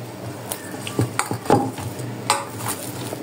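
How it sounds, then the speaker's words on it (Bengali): Chocolate donut dough being worked by hand with oil in a bowl, giving close, irregular knocks, taps and soft slaps of hand and dough against the container over quiet room noise. "তো আপনারা এভাবে তেলটা দিয়ে মেখে নেবেন, যদি হাতে লেগে যায়।"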